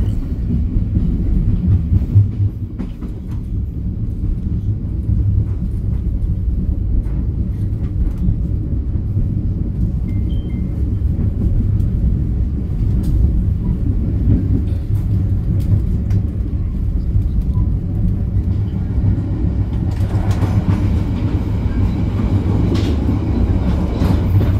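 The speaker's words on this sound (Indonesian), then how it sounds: "kereta api Mutiara Timur sudah diberangkatkan dari kota Surabaya" The Mutiara Timur train departs Surabaya with a loud, continuous low rumble of rolling wheels and car motion, steady throughout with faint rhythmic clatter, heard from aboard with no talking.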